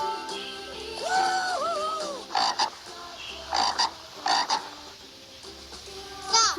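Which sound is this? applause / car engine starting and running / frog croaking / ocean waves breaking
frog croaking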